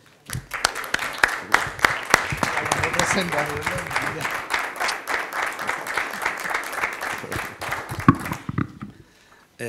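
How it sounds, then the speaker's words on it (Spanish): Listeners at a Spanish aphorism lecture break into applause, a lively, fairly loud clatter of many hands that begins after a few scattered claps, holds steady, then stops abruptly near the end, with some voices mixed in. "Así que, por favor, Antonio, damos un aplauso."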